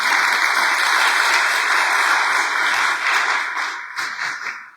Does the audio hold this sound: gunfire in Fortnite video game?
no